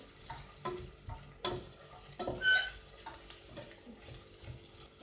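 Onions and vegetables sautéing with tomato paste for lentil soup, soft sizzling with intermittent stirring scrapes and light clicks of a utensil against the pan, close and quiet.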